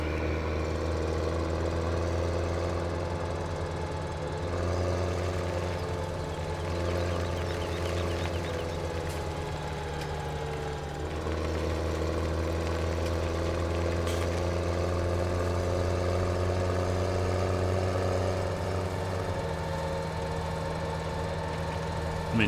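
A tractor engine in Farming Simulator 17 drones at a steady, loud hum while driving, with a constant low rumble and no talking.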